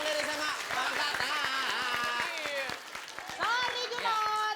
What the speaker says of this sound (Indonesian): kita berikan tepuk tangan untuk kedua tim Bang Dery sama Bang Tata